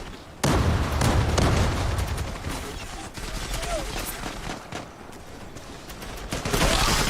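MP76 submachine gun fire in the online shooter Zula, a rapid, loud, sustained burst of shots with fast repeated cracks that drops back briefly and then swells again.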